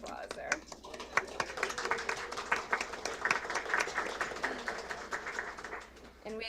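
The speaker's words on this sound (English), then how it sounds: "let's give Donna some applause there" Applause from the audience at a county commissioners board meeting, a steady crowd clapping for a retiree acknowledgement that runs for several seconds and fades near the end, with some speech mixed in.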